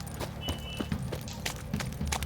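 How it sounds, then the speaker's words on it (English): Horse hooves clip-clopping in the video game The Witcher 3: Wild Hunt, a steady walking rhythm of soft thuds over a low droning game score, moderately quiet and with no talk. "Time to water the horses."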